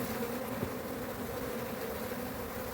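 Dense, continuous buzzing of many honeybees swarming close by around a hive, a steady drone without pause.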